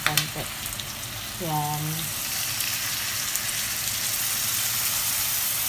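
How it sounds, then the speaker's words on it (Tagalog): Pork ribs frying for adobo give off a continuous sizzle that swells as a little water goes into the pan, settling into steady bubbling hiss; a voice speaks briefly at the start. "lalagyan ko naman siya ng konting tubig para kumulo naman siya sa tubig"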